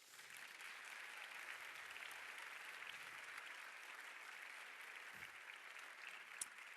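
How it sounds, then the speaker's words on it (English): Steady applause from a large audience greeting film producers at an awards presentation, a dense even patter of clapping that holds throughout with no voices over it. "may we have a big round of applause, everyone, for producers Raphael Deloche and Rachel Kahn"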